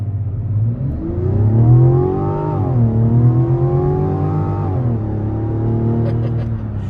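A 2024 Mazda CX-90 three-row SUV launches hard from a standstill, its new 3.3-liter inline-six engine revving up through rising, smooth pitch with shifts, loud and close, with no talking.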